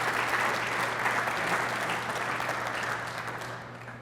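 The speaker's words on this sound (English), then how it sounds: "Give them all a round of applause, please." Sustained audience applause at a Boardman community business morning event, dense and steady clapping from a large room that slowly eases off toward the end over a low hum.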